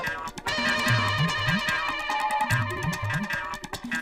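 A phone rings unanswered in two repeated bursts of a warbling electronic ringtone tune, close and fairly loud over a busy background murmur.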